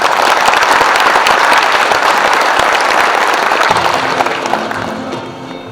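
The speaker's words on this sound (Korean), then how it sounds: "뜨거운 박수 부탁드립니다" A university audience at Chosun University in Gwangju gives loud, dense applause to welcome a lecture by former UN Secretary-General Ban Ki-moon. The clapping fades gradually toward the end as a low tone comes in underneath.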